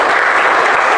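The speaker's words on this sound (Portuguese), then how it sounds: "E para Ele uma linda salva de palmas." Congregation clapping at a church service, a dense, loud burst of continuous applause from many hands.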